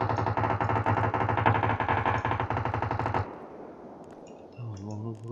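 Rapid automatic gunfire in the battle royale game PUBG, a dense burst of loud shots for about three seconds, then echoing tail and a brief voice at the end.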